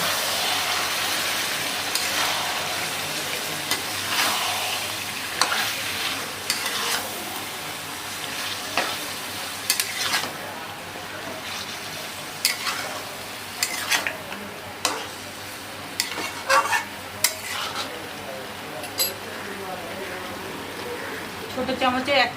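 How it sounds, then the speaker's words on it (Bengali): Chicken pieces fry and sizzle in a pan as a spoon stirs them, with steady frying hiss and repeated scraping strokes at close range, louder bursts spaced through the stir. "এবার দিয়ে দেবো চিকেনটাকে। চিকেনটাকে নাড়াতে হবে।"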